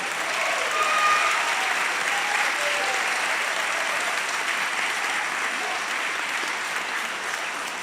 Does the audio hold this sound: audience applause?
yes